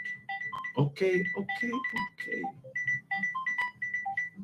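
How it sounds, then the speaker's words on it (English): A phone ringing with a repeating electronic melodic ringtone, steady and fairly loud beneath someone talking over it. "The phone is just blowing up because Eid is coming."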